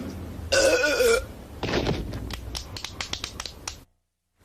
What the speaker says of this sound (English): The burp champion of the world.